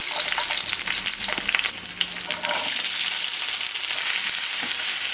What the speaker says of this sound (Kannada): ಈರುಳ್ಳಿ ಟೊಮೆಟೊ ಚೆನ್ನಾಗಿ ಫ್ರೈ ಮಾಡ್ಕೊಳ್ಳಿ